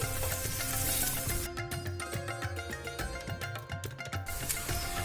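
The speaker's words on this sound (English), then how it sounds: "So the tawa has heated, and now I'm going to place the paratha on it." A chicken keema paratha cooks on a hot tawa, giving a steady close sizzle throughout with a few soft scraping touches midway.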